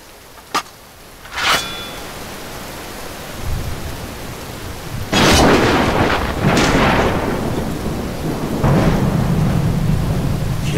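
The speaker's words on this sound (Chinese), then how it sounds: "这场大雨啊，它冲不垮" Heavy rain and a thunderstorm in an ancient-era mythological costume drama: sharp thunder cracks and rolling rumbles break over a steady, loud roar of downpour, with no voices.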